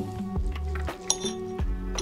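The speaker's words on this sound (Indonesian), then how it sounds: "Pertama kita potong dulu ayamnya" Metal cutlery cutting peri peri chicken on a plate makes several bright clinks and scrapes in quick succession against a steady background of music, with no talking.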